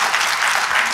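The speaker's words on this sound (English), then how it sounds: "yeah, that's worth applauding." An audience at a political gathering gives a brief, dense burst of applause with steady clapping throughout.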